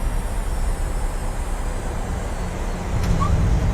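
Southwest airliner rolling out after touchdown in Microsoft Flight Simulator, a steady low rumble of wheels and engines with faint wind hiss, holding a constant moderate level throughout.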